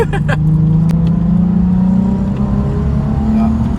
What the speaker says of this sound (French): Si vous avez entendu un V6, c'est nous